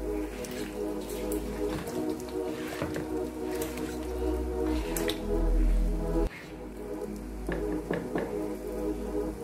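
Chicken and ingredients for ofe nsala, a Nigerian white soup, are stirred together in a pot with a splash of water, giving wet squelching and sloshing textures over a steady low hum, with scattered sharp taps against the pot.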